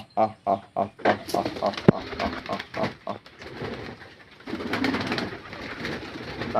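Pigeons in a Bengali home loft, many of them young birds, coo outside in a group. A run of sharp rhythmic pulses opens the clip, then a busier, mixed wash of bird sounds follows at close range.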